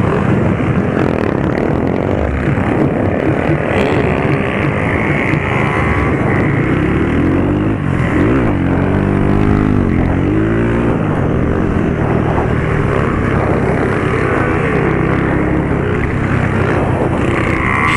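A loud, steady motorcycle engine roar drones continuously at a motorcycle event in Papagaios, Minas Gerais, rising and falling slightly in pitch as it accelerates, close and dominating with wind noise.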